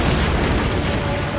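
Ship weapons boom in a naval battle in Assassin's Creed, a dense, loud low rumble of gunfire or explosion filling the short moment with no clear pause.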